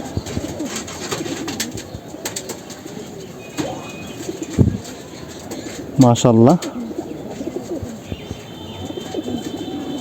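Pigeons in a loft, including a purple-footed male with two small chicks, coo and flutter in short bursts, with one brief loud coo sequence standing out, while someone talks over them nearby.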